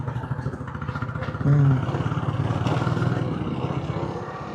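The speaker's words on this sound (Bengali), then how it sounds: "একটা ঢাক ঢাক আওয়াজ পাইতেছি। ও, রয়্যাল এনফিল্ড।" A Royal Enfield motorcycle passes on a village road, its engine a low, rhythmic thump that swells briefly and then holds steady at moderate volume, with no talk.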